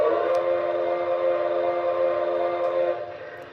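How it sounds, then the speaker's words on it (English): A model train's whistle sounds one long, steady, loud chord-like blast that holds for about three seconds before tapering off, with no talking over it. "the whistle is absolutely phenomenal"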